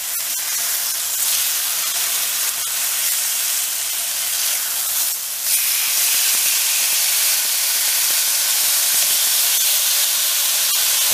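Marinated chicken just flipped in a cast iron pan, hissing in a loud, steady, broad sizzle that holds throughout with a brief swell midway.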